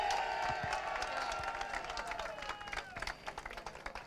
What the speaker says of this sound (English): give your best round of applause for the driver in third position from Spain, Pedro Hilbran.